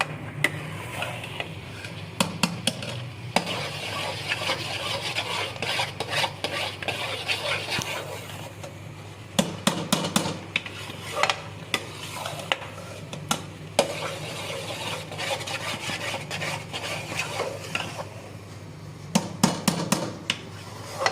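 Chana dal halwa is stirred without pause in a pan. A long run of scraping and knocking from the spoon against the metal rises over a faint cooking hiss, with brief bursts of rapid clatter.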